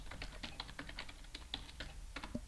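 A password is typed on a computer keyboard: a quick, irregular run of soft, close key clicks over a low background hum, with no talking.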